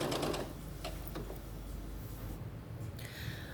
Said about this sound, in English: So that's how I set my machine up. And here I'm stitching the 1/4 inch seam allowance along that bottom edge.